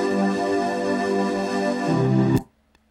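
A Euphoria pad preset from the UJAM Usynth synthesizer holds a rich, bright sustained chord for over two seconds, then cuts off abruptly into near silence.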